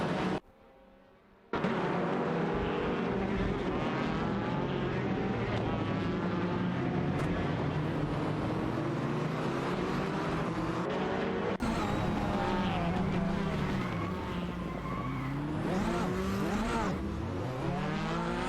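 Several race cars, including a Honda Civic and a Lada Vesta, in an AI-driven racing video game: loud continuous engine whines rising and falling through gear changes, overlapping one another, with a short quieter gap near the start.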